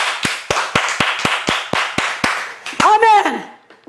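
A church congregation claps in steady unison during a sermon, about a dozen even claps roughly twice a second, followed by a sung or shouted voice at the end.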